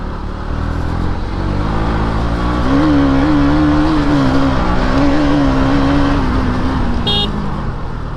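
A car's engine revs up and rises in pitch as it speeds up, loud and close, with a short horn-like toot near the end and no talk.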